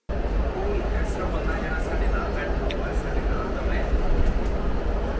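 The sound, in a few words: driverless metro train coming and going, Kuala Lumpur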